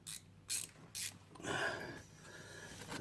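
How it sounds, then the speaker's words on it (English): A 7mm ratchet fitted with a long extension is worked on an Aston Martin DB9 engine, giving three short bursts of ratcheting clicks followed by a longer, softer ratcheting run, close and fairly quiet. "A 7mm ratchet."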